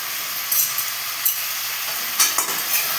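Tomato goes into a hot pan of chicken stew base and fries with a steady, bright sizzle, punctuated by a few stirring scrapes, close and loud.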